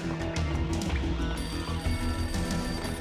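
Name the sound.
phone ringing in the video game Max Payne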